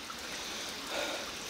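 Water from a newly switched-on electric pump flowing up to the top of a hillside ranch plot, a steady soft stream-like rush and trickle heard alone at low level, swelling slightly near the end.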